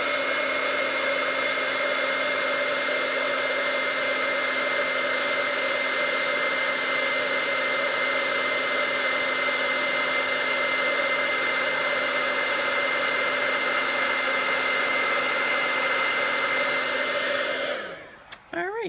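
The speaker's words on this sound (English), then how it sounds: "we're going to heat emboss this happy birthday" A heat embossing tool blows hot air over embossing powder on a birthday card with a loud, constant whirring hum and rush of air, then winds down and cuts off near the end.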